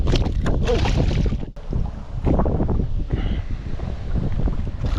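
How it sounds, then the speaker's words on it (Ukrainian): Strong wind on the Dnieper River roars and buffets the microphone continuously with a deep, rumbling gusty noise, briefly dipping once before surging again. "Вітер сьогодні просто скажений, не дає нормально кидати."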